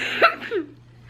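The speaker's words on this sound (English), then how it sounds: "I can't stop coughing right now" A woman coughs twice in quick succession, close and fairly loud, then a low steady hum remains indoors.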